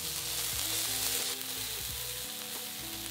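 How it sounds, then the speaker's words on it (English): Onion and minced garlic frying in a pan while being stirred, a continuous close sizzle with faint stirring underneath, no voices. "Add 3 cloves of minced garlic and fry for a further minute while stirring."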